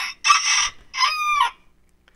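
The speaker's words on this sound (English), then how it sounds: "Rooster." A rooster crows loudly in two bursts, a short call and a longer drawn-out one, followed by quiet.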